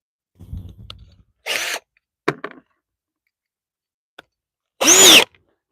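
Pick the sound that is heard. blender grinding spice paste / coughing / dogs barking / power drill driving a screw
power drill driving a screw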